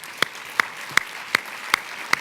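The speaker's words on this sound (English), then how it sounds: "if we're clapping for him" Six crisp, evenly spaced claps ring out at a slow, steady pace in a quiet room at a mobility summit, each one sharp and distinct with near silence between them and no talking.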